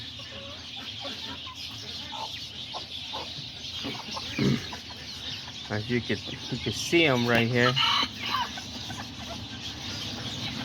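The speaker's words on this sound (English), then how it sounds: "These are all the smaller roosters, and then over here I got all the little hens." Aztecas and Serama chickens, young roosters and hens, cluck in short bursts around someone talking, with a busy farmyard bustle behind and a few louder squawks near the end.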